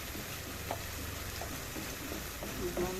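Poppy seed paste fries in a pan for a prawn poppy seed curry, giving a steady close crackling sizzle with soft scrapes of stirring throughout and no talking.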